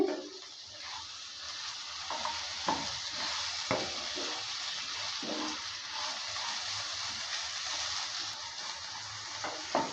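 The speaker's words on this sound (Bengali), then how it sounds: "ঢাকনাটা তুলে নেওয়ার পর নেড়ে চেড়ে নিচ্ছি" Potatoes frying in a pan are stirred once the lid comes off, for a gima shak stir-fry. A steady close sizzle runs throughout, broken by scattered clinks and scrapes of the stirring utensil, with no voices.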